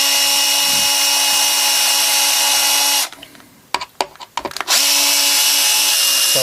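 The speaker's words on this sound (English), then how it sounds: "Just going to gently put in these neck screws." Screws are driven into a Fender Stratocaster neck, a Mexican-made Strat, with a power driver. Two loud, steady whirring bursts are separated by a quieter stretch of small clicks and scrapes, all close up with no talking.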